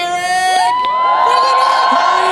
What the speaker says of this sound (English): Make them feel welcome, so start applauding, start cheering.